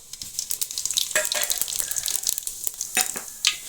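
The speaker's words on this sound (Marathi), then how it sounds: "आपलं आता तेल गरम झालेलं आहे मी आता हे जिरे टाकून घेणार आहे तेलामध्ये" Cumin seeds dropped into hot oil sizzle and crackle in a pan over a wood-fired clay stove, a steady bright fizz with scattered pops, close by with no talk.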